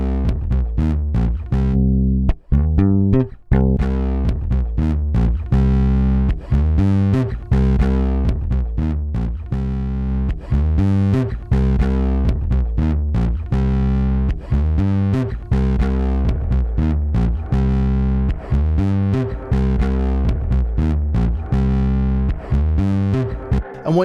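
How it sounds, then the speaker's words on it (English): A bass line passes through a LadyBug lo-fi reverb set to compress hard, so the reverb pumps in and out as notes start and stop, giving a loud, dense, gritty continuous sound with short rhythmic dips. "what you can hear, especially on this bass, is how the reverb kind of sucks in and out when the signal's there and the signal goes away"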